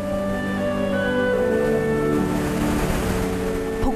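Rushing water pours at a waterfall, a broad steady roar that holds evenly loud from start to finish, with a faint tonal hum running beneath it and no voices.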